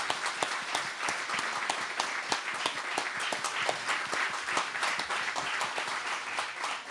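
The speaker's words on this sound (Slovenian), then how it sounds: "Jaz predlagam, da ji damo še en aplavz" An audience at a regional political party gathering applauds a singer, dense and sustained clapping from many hands at close range, steady throughout with no voices standing out.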